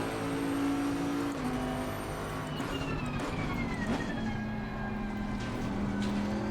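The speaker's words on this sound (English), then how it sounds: "I like that little engine noise." Bentley race car engine in a racing video game, a steady droning tone with slight pitch shifts over continuous road and wind noise, moderately loud.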